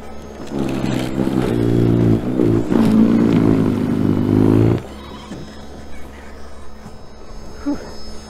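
An Ego battery snow blower throws cold snow in a loud, steady whirring roar for about five seconds, then cuts out, leaving quieter outdoor rustling and footsteps.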